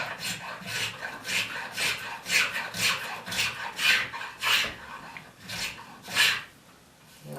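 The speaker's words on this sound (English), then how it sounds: "So I'm going to scrape that." A hand scraper rasps along a wooden arm rail in about a dozen rhythmic, close strokes, each a bright scratchy swipe with short pauses between.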